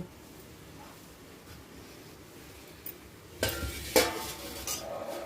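Brinjal and onions go into a pan of oil. A faint background sizzle erupts into a loud, crackling burst partway through, with pan clatter and stirring knocks close by.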